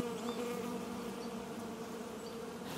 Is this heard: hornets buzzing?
yes